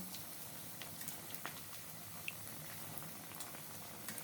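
Semolina and gram flour snack pieces frying in hot oil: a soft, continuous bubbling sizzle with scattered tiny pops, faint and steady throughout, with no voices.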